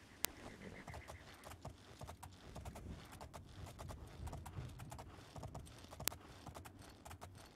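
Horse hooves clip-clopping steadily in the PC game The Elder Scrolls IV: Oblivion while riding, a continuous even rhythm over a soft game ambience, with no talking.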